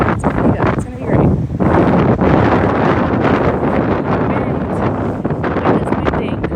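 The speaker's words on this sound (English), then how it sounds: "Wind is winding." Heavy wind buffets the microphone outdoors on a city street, a steady loud roar with gusting swells and rustling bursts throughout.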